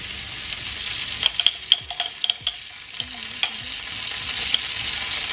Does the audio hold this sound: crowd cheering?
no